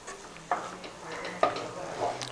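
Sliced onions frying in oil for a Kerala-style beef curry, a faint sizzle broken by a few clinks and scrapes of a spoon against the pan.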